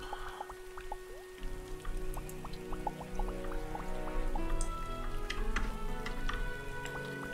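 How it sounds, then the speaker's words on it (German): Rain falling outdoors in the pixel-art game Starbound on a flower planet, a continuous patter of drips and droplets with soft ticking, mixed with steady game background tones. "Es regnet draußen, natürlich. Ich hör's."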